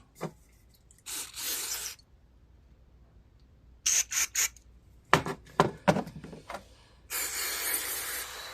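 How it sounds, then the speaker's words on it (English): Short hissing blasts of aerosol cleaner are sprayed into the carburetor bowl of a Craftsman 6 hp engine, some in quick rapid pumps, with quiet gaps between; a final longer spray closes it out. "Spray the bowl out."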